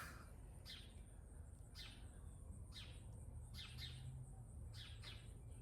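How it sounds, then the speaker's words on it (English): Birds chirp outdoors on a morning walk in short, repeated bursts of high calls, fairly faint over a low steady background hum. "I can hear that bird too, guys. I can hear birds again."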